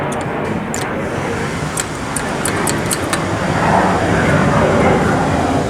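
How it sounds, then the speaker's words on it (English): A loud, broad roar of a jet airplane overhead near an airport swells steadily, with a few brief clicks and a voice speaking over it early on. "You can hear the plane."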